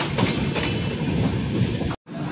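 A train on the Kolkata to Haridwar route runs onward after leaving Jamtara station, giving a continuous, fairly loud rumble and rattle that cuts out briefly near the end.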